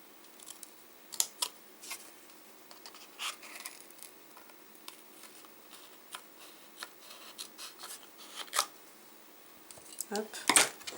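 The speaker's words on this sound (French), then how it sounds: "Je découpe." Scissors snip through plain white paper to cut out stamped tickets, giving sharp, close crisp cuts spaced irregularly across a quiet room, with a louder cluster of snips near the end.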